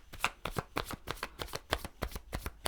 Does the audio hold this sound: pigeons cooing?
no